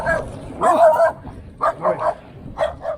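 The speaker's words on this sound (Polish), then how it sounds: "Pies mnie pogonił." A dog barks at a passing cyclist on a roadside in northern Poland. It gives several loud, close barks in uneven bursts with short gaps, over faint outdoor background noise.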